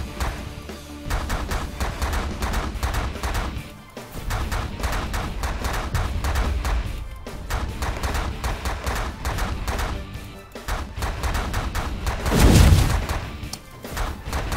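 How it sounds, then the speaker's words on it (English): Automatic weapons fire in The Last Federation space strategy game rattles in continuous fast volleys with thumping impacts and a heavier boom near the end, loud and dense throughout. "Auto fire away!"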